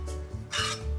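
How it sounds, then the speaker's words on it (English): Cooked quinoa being fluffed with a utensil, giving two short, soft scraping rasps close by in a quiet setting. "fluff the quinoa"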